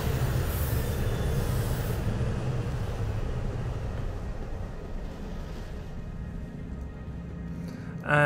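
Steady low engine drone inside a C2 spaceship in Star Citizen, a continuous loud rumble with a faint high whine, holding evenly throughout before a brief voice at the end.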